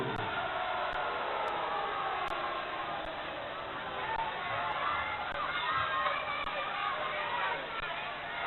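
A televised wrestling crowd reacts to a first fall with a steady, loud roar of shouts and jeers that fills the hall without a break.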